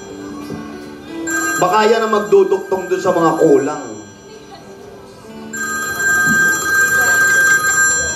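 A telephone rings in a home setting, its steady electronic ring starting partway in and continuing loud to the end, following a stretch of close conversation.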